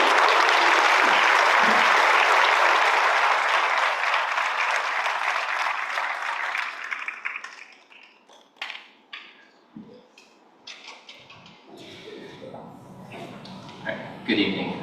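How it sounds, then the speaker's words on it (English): An audience in a high school auditorium applauds at a school board open forum, loud dense clapping for several seconds that thins out and dies away, leaving a few scattered claps and room noise. "can we just have another round of applause for these children?"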